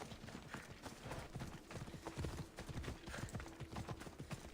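Horse hooves clip-clop steadily at a quick, rhythmic pace in the video game Assassin's Creed Odyssey, close and fairly loud against a busy in-game background.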